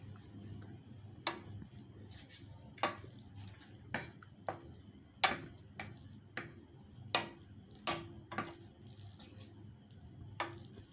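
Double-spicy red Korean noodles being stirred together with a fork, giving a sparse, irregular run of sharp wet clicks and clinks about once a second over a low background hum, with no voices.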